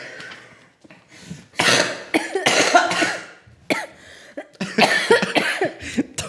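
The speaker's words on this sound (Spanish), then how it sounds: "Ha tosido bebiendo agua." A person coughs hard after choking on a drink of water, a close series of harsh, irregular coughing bursts with throat clearing and short gasping pauses between them.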